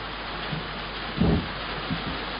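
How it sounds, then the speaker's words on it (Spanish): Intense rain pours down outside a ruca, a traditional Mapuche hut in Arauco, a steady dense hiss with a brief low rumble midway, loud and unbroken with no voices. "Nos protegemos de la intensa lluvia unos momentos bajo su ruca."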